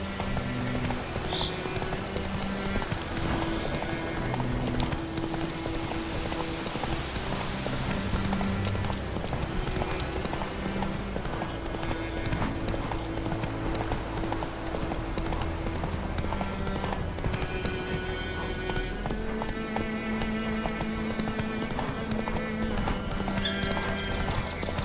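Horse hooves clip-clop steadily at a gallop in The Witcher 3: Wild Hunt, with an occasional whinny, all running under continuous game music and ambience for the full length.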